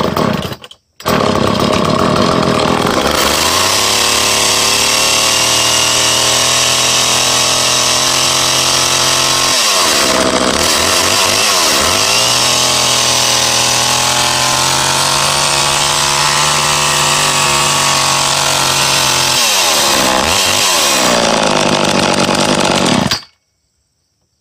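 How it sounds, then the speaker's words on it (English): An old chainsaw, started cold, runs loud and close for over twenty seconds, holding a steady engine drone with two brief dips in revs before cutting off abruptly. "I don't know if any of you are familiar with the old saws, but the older saws, they don't RPM as fast as the newer ones."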